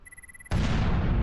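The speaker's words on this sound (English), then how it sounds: "I could actually watch the explosion that time" A single sudden explosion in the video game Lifeless Planet bursts in after a faint tonal hum and roars on as a loud, dense, sustained blast with no voices.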